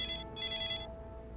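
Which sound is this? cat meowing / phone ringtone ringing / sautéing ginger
phone ringtone ringing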